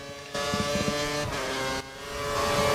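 A race car accelerates hard out of a corner, its engine note climbing in clear harmonic bands, then a second burst of revving rises again, close and loud.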